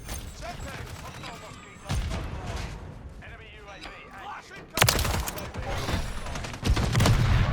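Rapid bursts of gunfire from a Call of Duty match crackle through the whole stretch, with sharper, louder volleys toward the end, while a player talks over the shooting.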